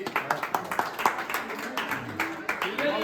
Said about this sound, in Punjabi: ਤਾੜੀਆਂ ਮਾਰ ਦਿਓ ਜੀ